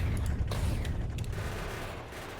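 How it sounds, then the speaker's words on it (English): Grenade explosions in the Factorio video game, heard as a loud rumbling run of blasts and crackling bursts that fades slightly toward the end. "And this is why we bring grenades."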